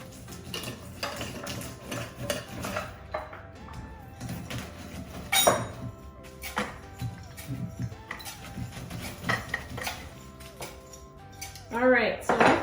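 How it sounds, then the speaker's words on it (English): Oats, apples and cinnamon are stirred in a bowl, with irregular scraping and clinking of a utensil against the dish, close and moderately loud, with a few sharper knocks and a brief voice. "All right, so I've mixed this all up."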